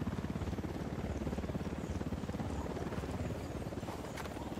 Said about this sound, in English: Unidad chopper, stay low.